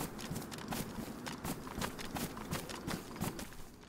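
A horse walks in the video game DayZ, its hooves clip-clopping in a steady, even rhythm of quiet, crisp steps that sound fairly close.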